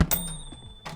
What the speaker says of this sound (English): When the balloon enters this box, it makes this cool bing sound.